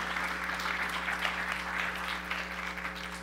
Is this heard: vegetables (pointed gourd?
no